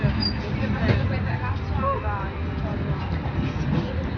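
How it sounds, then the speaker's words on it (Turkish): Steady rumble and rolling noise inside a moving high-speed train in Italy, constant and fairly loud throughout, with faint background voices murmuring in the carriage. "Hızlı tren diye geçiyor ama normal gidiyor."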